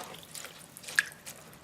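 Water trickling and dripping over fresh cilantro stems being rinsed at a kitchen sink, soft splashes with one brief brighter drip, close and fairly quiet.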